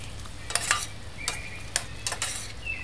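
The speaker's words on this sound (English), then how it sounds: "Stir it in a few times" A spoon scrapes and stirs ketchup into a broccoli and broad bean stew in a pan, giving soft irregular strokes and light clinks over a faint steady sizzle.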